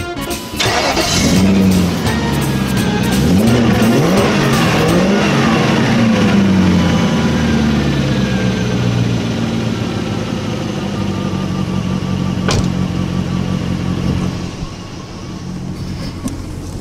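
An old BMW E30 fitted with a V8 engine rumbles loud and close, starting up and revving in rising and falling sweeps before settling into a steady idle.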